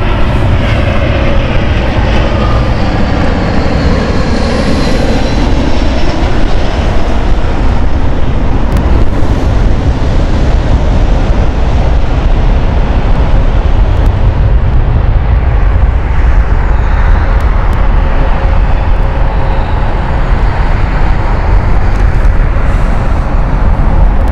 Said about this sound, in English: afterwards the Lisbon flight of British Airways Speedbird 51 Papa